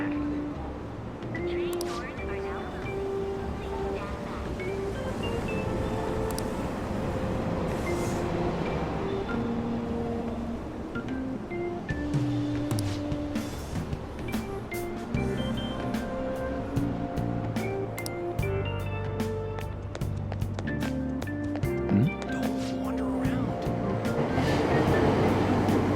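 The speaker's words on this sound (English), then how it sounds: "Train doors are now closing. Please stand back." A subway train runs in Persona 5 Royal, a steady rumbling roar of the carriages throughout, with door chimes, announcement voices and background music layered over the rolling noise.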